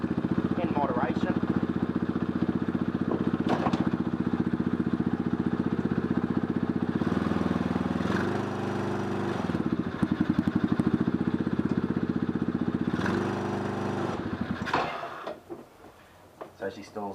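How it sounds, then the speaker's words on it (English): A 110cc mini Willys jeep engine runs on nitrous in second gear, a loud, continuous, rattling drone with rev swells. Near the end it bogs and stalls, followed by quieter clatter. "I'm going to try and put it in second gear and see if it will spin with the nitrous"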